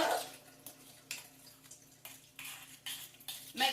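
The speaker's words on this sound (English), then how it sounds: "We're going to stir it all up" A fork scrapes and clinks against a dish while stirring a beanie weenie casserole, with several soft, separate stirring strokes at close range and no talking.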